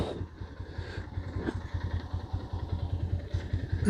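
A motorcycle engine idles with a steady low chugging pulse as the bike is pushed past a fallen bamboo pole on a stormy night, with faint clatter and rustle over the running engine.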